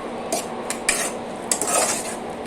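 A utensil scrapes and clinks against a pan while tomato egg curry with ginger-garlic paste is stirred, giving a few quick metallic scrapes over a steady background hiss.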